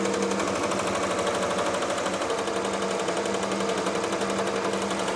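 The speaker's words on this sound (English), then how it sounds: "So now y'all know the Ricoma MT1501 can embroider on sweaters." A Ricoma MT1501 embroidery machine stitching onto a thick sweater at around 800 stitches per minute, a fast, even mechanical chatter with a low motor hum running unbroken and close throughout, no voices.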